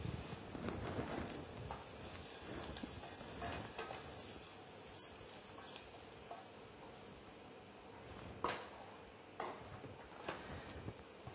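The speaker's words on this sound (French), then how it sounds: "On va mélanger jusqu'à ce que le riz commence à devenir translucide." Thai rice being stirred in a pan with tea and cardamom while it turns translucent: soft continuous sizzling with scraping stirs and a few sharp utensil knocks, fairly quiet and close, no talk.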